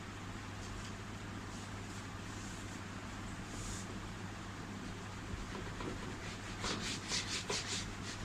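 A board eraser rubs steadily over a classroom board, a continuous scratchy friction with a few stronger strokes near the end, all under a constant low background hum.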